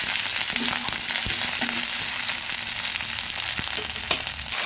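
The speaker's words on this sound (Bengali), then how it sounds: "আদা রসুনটা পেঁয়াজ কুচির সঙ্গে সুন্দরভাবে ভেজে নিচ্ছি।" Ginger, garlic and chopped onion fry in a pan, giving a continuous loud sizzle with scattered scraping stirs and crackles throughout.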